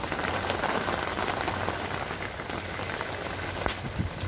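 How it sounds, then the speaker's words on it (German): Steady, dense rain pattering on a surface in windy weather, close and continuous with no voices. "Draußen ist jetzt richtig Wind. Es regnet auch richtig schön."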